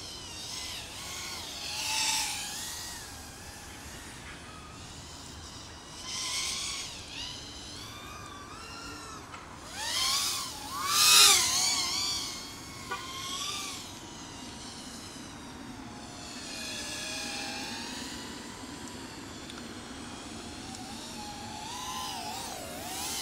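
A Helifar Mini Fuuton 3-inch cruiser drone flies at a distance, its high whining buzz rising and falling as the throttle changes, with louder swells partway through.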